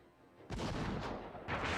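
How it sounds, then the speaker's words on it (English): A cannon roars in the samurai-era video game Hakuoki: Kyoto Winds: after a quiet start, a loud sudden boom sets in and rumbles on, with a second loud burst near the end. "The roar of a cannon interrupted Nagakura, and the room immediately fell silent."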